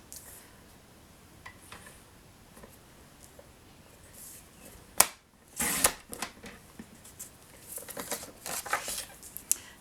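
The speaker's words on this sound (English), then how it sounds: "we're going to take this envelope and trim it down" Scissors trimming a paper envelope for a card craft, giving soft close snips and papery rustling, with a burst of cutting and handling noise in the middle and more scattered rustles afterward.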